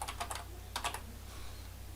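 Quiet clicking on a computer keyboard, two short bursts of quick keystrokes separated by a pause, over a low steady hum.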